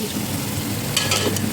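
Tomatoes and spices fry in a pot for beef pulao, a steady close sizzle with a few short stirring scrapes toward the end.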